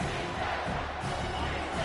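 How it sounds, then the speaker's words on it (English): Home crowd roar at an American football game as the defense tries to get off the field on third down, a steady dense wash of cheering with no breaks. "Here comes his home crowd as the defense tries to get off the field on 3rd down"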